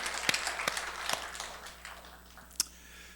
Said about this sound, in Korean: 수고하는 우리 교사와 사역자들을 위해서 우리는 뜨거운 박수로 한번 축복해 주시길 바랍니다